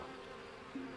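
Bees buzz in the video game Elroy and the Aliens, a faint steady insect drone with a brief louder low hum near the end.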